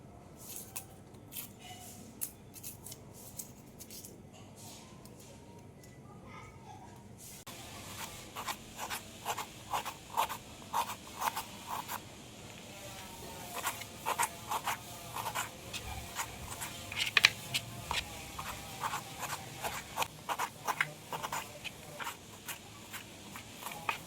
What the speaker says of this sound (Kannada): 2 ಈರುಳ್ಳಿನ ಸಣ್ಣ ಸಣ್ಣದಾಗಿ ಕಟ್ ಮಾಡ್ಕೊಳ್ತಾ ಇದ್ದೀನಿ.